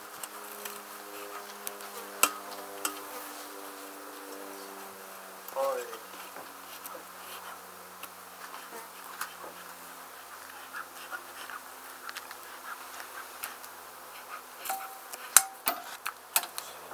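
Honey bees buzzing steadily in a hive being removed as smoke is puffed over them, a continuous low drone with scattered ticks and clicks on top.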